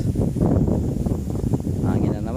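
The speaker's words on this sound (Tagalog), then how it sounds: "Hangin na naman, ito yung problema dito," Wind buffets the microphone in a rice paddy field in a steady, rumbling low roar that gusts slightly louder and softer throughout.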